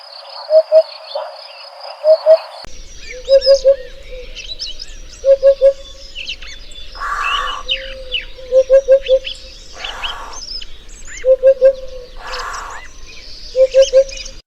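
A Eurasian hoopoe gives hollow, low 'oop' notes in quick groups of two or three, repeated at regular intervals. Steady cricket trilling and other chirping birdsong run underneath.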